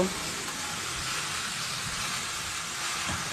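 A steady hiss of sizzling rises from a pan of spiced fish curry masala as water goes in, a broad even frying noise with a few soft stirring knocks, moderately quiet and close.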